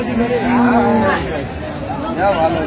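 A cow with her calf lows loudly at a busy village cattle market, one long close moo followed by shorter calls, with crowd chatter and bargaining voices around it.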